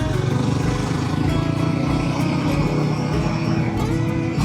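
A Royal Enfield Himalayan motorcycle on a morning ride, its engine droning steadily and loudly throughout with constant low rumble and wind, no talking heard.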